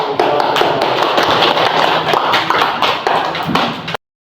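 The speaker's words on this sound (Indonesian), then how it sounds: "Ya, tepuk tangan" Students applaud in an Indonesian school classroom, clapping loudly and continuously for about four seconds before an abrupt cut to silence.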